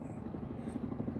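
A CH-47 Chinook helicopter flies past at a distance during a wildfire, its rotors giving a faint, steady low thumping throb.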